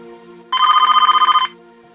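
A mobile phone rings with an incoming call: one loud, close electronic trill with rapid warbling pulses lasting about a second, then stops.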